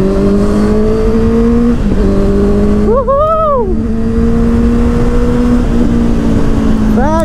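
A Honda CBR 650R motorcycle holds a steady, close engine drone while riding, with a brief rising and falling rev partway through and another surge at the end.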